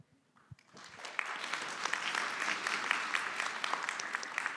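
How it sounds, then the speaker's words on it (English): Seminar audience applause for a panel on cross-border digital payments rises after a quiet start into a steady, moderately distant wash of many hands clapping, continuing evenly to the end. "Please join me in giving our distinguished panelists a warm round of applause"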